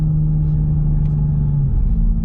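Steady low engine rumble from a Toyota Supra with a transmission tune while driving, the pitch holding and then dipping as it shifts near the end; close and fairly quiet, no talking.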